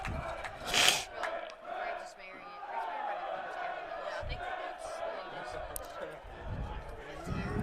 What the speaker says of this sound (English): the crowd going nuts here at the field